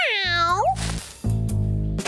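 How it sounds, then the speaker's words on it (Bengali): A cartoon cat gives a rising, sliding meow followed by two drawn-out nasal meows, loud and close with no other sounds. "Miao Miao. এই যা যা, লোভী বিড়াল একখানা।"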